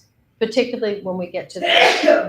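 A loud, close sneeze bursts out at the end of a man's spoken words during a live kundalini yoga class, a sharp breathy explosion after the talking.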